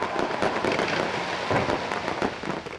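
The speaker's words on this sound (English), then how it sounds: "Fireworks lit up the night sky as spectators admired an installation at the iconic Sydney Opera House." Fireworks bursting over Sydney Harbour at the Vivid Sydney festival of lights near the Opera House, a dense run of crackling pops and booms at steady loud level with no voices.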